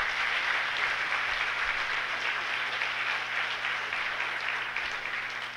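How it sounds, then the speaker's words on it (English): An audience at a hacker-conference talk breaks into sustained applause, a dense, steady wash of clapping that fills the room and tapers only slightly toward the end, with no speech over it. "he gets applause"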